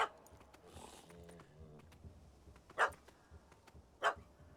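In The Witcher 3: Wild Hunt, a dog gives two loud, sharp barks about a second apart, set against quiet ambient game sound with faint background voices.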